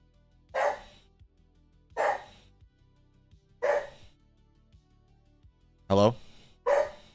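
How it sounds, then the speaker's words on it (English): Several dogs bark in five sharp bursts spaced a second or two apart, fairly close and loud over a quiet low background hum. "I was yelling at my dogs because they're barking."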